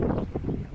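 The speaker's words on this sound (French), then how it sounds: "On navigue uniquement avec la voile avant, qu'on appelle le génois." A sailboat running downwind under only its genoa, poled out on a spinnaker pole, on an Atlantic crossing: steady wind and water rush with wind buffeting on the microphone, continuous and fairly close.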